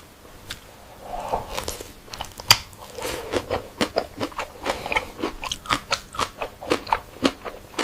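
Close, loud crunching and chewing of crispy fried reticulated python skin, with sharp irregular bites giving way to a steady rhythm of crackly chews, no talking.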